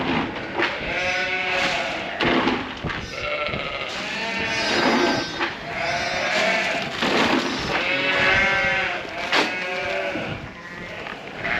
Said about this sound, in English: Okay, so lambs everywhere this morning with a triplet over the back here.